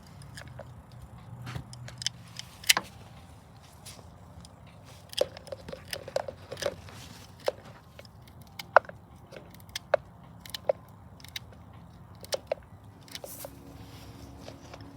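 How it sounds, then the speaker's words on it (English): Garden pruners cut ashwagandha roots: sharp crunchy snips repeat at irregular intervals, close up, over a quiet background hum with faint shuffling. "we like using the garden pruners for this"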